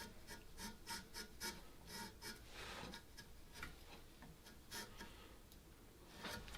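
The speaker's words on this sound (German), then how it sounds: "einerseits muss ich die Seite hier noch schön sauber schnitzen" A knife carves the wooden head of a Punch puppet, quiet rhythmic rasping strokes with small ticking scrapes, close and faint, no voices.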